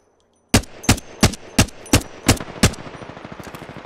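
Gunfire in Apex Legends: about eight sharp, evenly spaced shots in quick succession, loud and close, each followed by a short tail of decay, with no talking over them.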